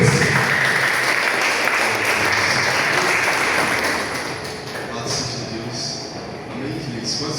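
Congregation at a church conference applauding joyfully for Jesus, a dense sustained wash of clapping throughout that thins slightly toward the end, with no clear speech over it.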